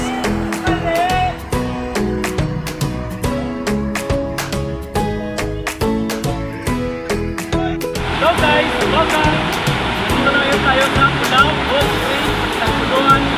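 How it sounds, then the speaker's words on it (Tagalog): A small waterfall at Bolao Cold Spring in Cagayan de Oro City: steady rushing water sits under music with sharp clicks, and the wash grows fuller and louder partway through. "doon sa kabila, meron parang maliit na falls, mini falls doon"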